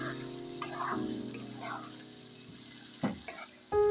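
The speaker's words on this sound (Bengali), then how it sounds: "তো মাছগুলো আমি এখন ভালো করে কষিয়ে" Snakehead fish pieces fry in a pan, a quiet sizzle with occasional stirring scrapes and a few clinks near the end, close up and without talking.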